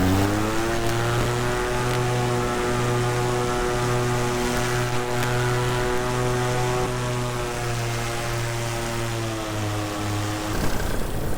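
Paramotor engine and propeller droning steadily at high power in flight, a loud continuous buzzing hum with even harmonics that holds for about ten seconds before dropping off abruptly near the end.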